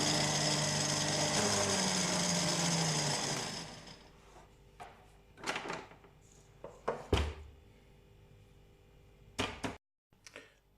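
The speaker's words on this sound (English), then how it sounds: "Let's quickly mix it together, ensuring that everything is mixed in thoroughly." An electric mixer whirs loudly and steadily through banana bread batter for about four seconds, then stops, leaving scattered clatters and thumps of utensils and bowls.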